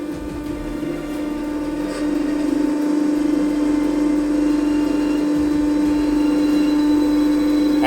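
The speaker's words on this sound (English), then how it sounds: "So there is the pitch pump." Propeller pitch pump running in the engine room of an old tugboat converted to electric drive, giving a steady loud mechanical hum with a strong drone that steps up slightly in level partway through, without speech.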